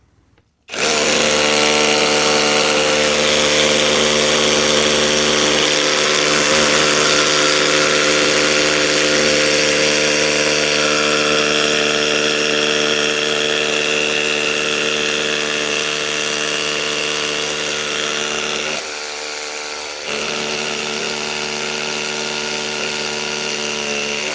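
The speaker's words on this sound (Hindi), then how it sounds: "तो 8 mm का ड्रिल बिट जो है वो बहुत आसानी से जाता है।" A Dongcheng DCZC22 cordless rotary hammer drill with an 8 mm bit starts abruptly and runs at a loud, steady high whine for over twenty seconds, dipping briefly near the end before continuing.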